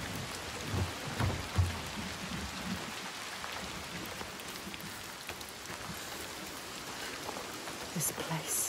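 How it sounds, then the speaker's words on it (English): Constant storm in the video game Hellblade 2: heavy, steady rain with low rumbling thunder, loud and continuous, a voice speaking faintly beneath. "The constant storm."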